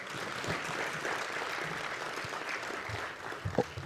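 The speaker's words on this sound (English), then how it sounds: "Another round of applause, ladies and gentlemen." Sustained audience applause at a national industrial policy launch ceremony, a steady dense wash of clapping from a large crowd throughout, with a few louder nearby claps toward the end.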